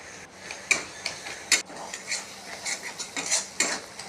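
A spoon stirs and mixes food in a pot while dim aloo bora curry cooks, with scattered clinks of the utensil against the metal and soft scraping, close and quiet with no talking.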